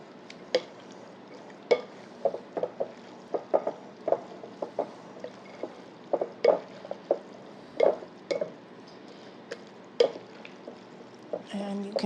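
Beef mince with Worcestershire sauce being stirred in a pan for shepherd's pie, a series of close, wet squelching scrapes and clacks of a spoon at an irregular pace.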